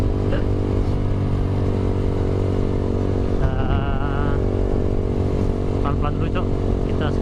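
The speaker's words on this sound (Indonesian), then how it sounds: "Sekalian manasin mesin motor ya kan" A Yamaha R15 V4 motorcycle engine idles and warms up with a steady close drone, while a rider talks over it in Palembang.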